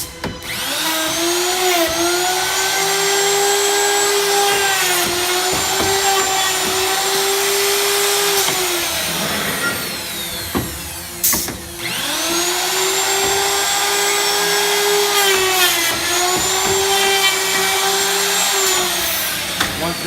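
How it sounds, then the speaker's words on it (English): A router run on a Northfield Industries door machine cuts out a wooden door jamb, giving a loud sustained whine that pitches down under load, stops briefly near the middle, then resumes for a second long cutting pass. "Once it's touching, you can route out the jam."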